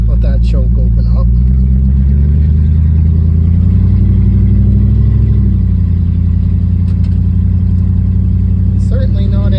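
A cold 1971 Mercury Comet engine with a freshly cleaned carburetor runs loud and close while warming up on choke, its steady rumble swelling slightly midway before settling back to an even idle.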